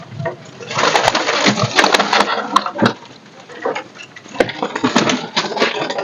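Teddy pigeons coo among caged birds at a bird-sale setup in Gulshan-e-Iqbal, a dense, steady mix of soft cooing with sharp knocks and rustles throughout, rising and falling in loudness.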